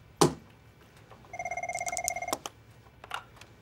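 An office desk phone rings in a quick warbling electronic burst of repeated tones, loud and close, with a few clicks and knocks before and after in a quiet room.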